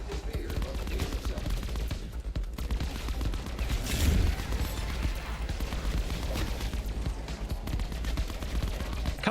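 The Titan gun fires steadily in Black Ops 4 Zombies, a dense stream of rapid shots over game noise, with a voice talking underneath.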